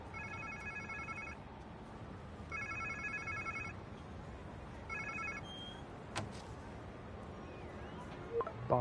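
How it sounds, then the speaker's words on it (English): Phone ringing in the video game Spider-Man 2, three evenly spaced electronic ring bursts at moderate distance over low ambient game noise. "Sounds like somebody's phone."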